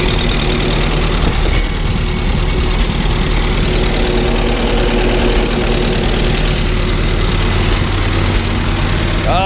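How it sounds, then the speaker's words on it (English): An old tractor engine idles steadily and loudly close by, a continuous low rumble with an even mechanical throb that carries through the whole stretch without a break. "It's actually a pretty quiet engine, believe it or not."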